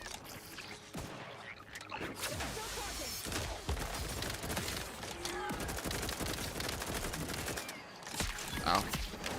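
Gunfire in the Outer Worlds 2 video game, steady bursts of shots layered over a dense game soundtrack and effects, with a player talking over the action.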